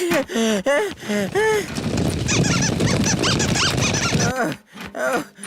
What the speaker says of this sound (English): The squirrels are coming! Squeak! Squeak!